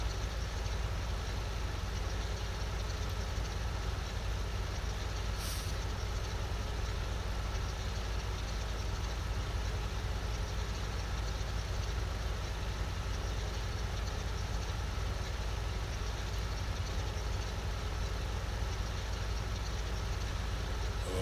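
A simulated old-style tractor engine runs in Farming Simulator 15, giving a steady, low, continuous drone with no change in pace and no talking over it.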